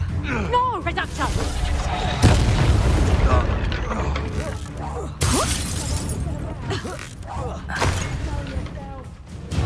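Spell blasts in the Hogwarts Legacy video game, booming impacts and shattering crashes erupting repeatedly amid chaotic combat effects, with a voice speaking over the action.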